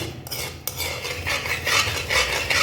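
A utensil scrapes and stirs a thick Sohan chocolate sweet mixture in a pan. The scraping comes close and repeats in uneven strokes, with faint frying underneath and no talk.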